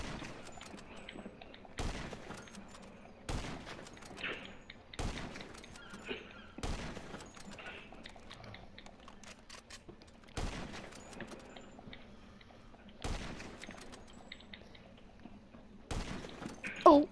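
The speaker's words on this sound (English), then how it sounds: "Oh, I didn't actually mean to shoot you" Gunfire in the video game GTA 5, with single loud shots fired at a slow uneven pace, several seconds apart, over a quiet background with a faint murmur of voices.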